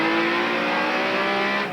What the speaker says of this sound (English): Listen to see when he hits that throttle.